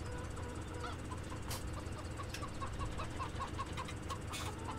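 Chickens in the Farming Simulator 17 game cluck and squawk in a busy flock, with repeated short calls over a steady farmyard background.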